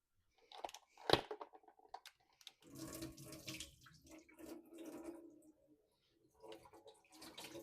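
Buttermilk drains off freshly churned homemade butter made from hand-milked cow's cream, pouring and splashing into a sink in uneven bursts with a sharp clatter near the start and quieter trickles and pauses after.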